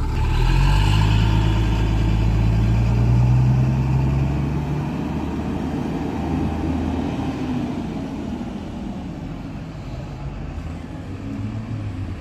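A bus engine idling at a bus station, a steady, loud low rumble that holds close for several seconds and then eases slightly, with no talk over it.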